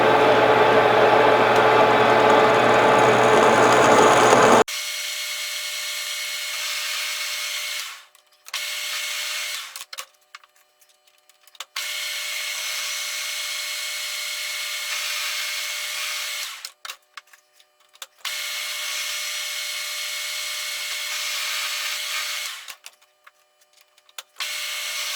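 Lathe machining a chamfer on a Spridget pushrod: a steady whirring cut with slight wobble, stopping and restarting several times with short silent gaps between passes.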